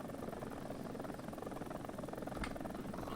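A Ka-52 attack helicopter hovers in War Thunder, its steady rotor thrum and turbine drone forming a continuous close engine noise with a rhythmic blade beat and no pauses.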